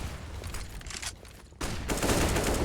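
Counter-Strike gunfire during an ESL Pro League playoff match, a dense spray of shots that grows louder and more continuous in the second half, with no voices over it.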